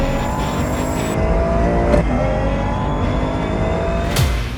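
A Ferrari engine roars and revs loudly and close by, with a sustained, rising mechanical howl and sharp bursts of acceleration, heard on its own without talk.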